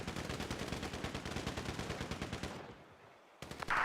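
Heavy sniper gunfire in a military video game, a rapid, loud run of evenly spaced shots that stops abruptly, then a brief lull and a burst of noise.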